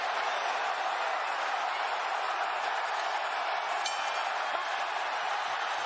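An arena crowd at a Jake Paul vs Tyron Woodley boxing match makes a steady, distant roar of cheering and murmur, with faint voices blended into it.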